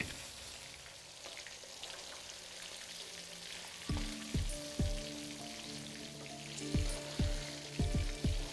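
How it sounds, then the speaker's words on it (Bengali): Turmeric-coated katla fish pieces fry in a pan of oil with a constant crackling sizzle. Partway through, a run of sharp knocks and scrapes from a spatula starts, near and without speech. "একে একে মাছগুলোকে দিয়ে এখানে ভালো করে ভেজে নিন"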